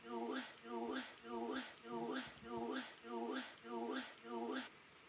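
A chopped vocal phrase loops in a tropical house track, the same short sung fragment repeating about seven times in a steady rhythm, bright and prominent, before cutting off near the end.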